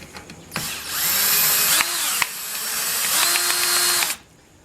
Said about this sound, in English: Alright, I'm going to screw this one on.